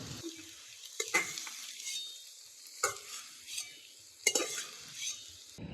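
Snails frying in a pan and being stirred, a continuous moderate sizzle broken by repeated scraping and clinking strokes of a spatula against the metal, close and without talk.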